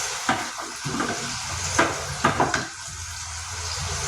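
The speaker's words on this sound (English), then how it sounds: "Fry it for 2 minutes or 5 minutes." Paneer fries in a pan over a low flame, with a continuous soft sizzle broken by a few sharp spatters and utensil scrapes; nobody speaks.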